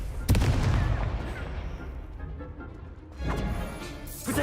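Confringo spell blasts in the Hogwarts Legacy video game, a loud explosive boom followed by a rumbling decay, then another burst near the end, with a voice calling out spells.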